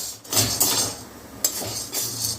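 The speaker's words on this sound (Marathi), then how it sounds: "ही पण चांगली परतून घ्यायची आहे आपल्याला खमंग होईपर्यंत." Chana dal is dry-roasted without oil in a pan while being stirred. It gives scraping, rattling bursts with metallic clinks of the spoon, loud and close, in three main strokes separated by short pauses.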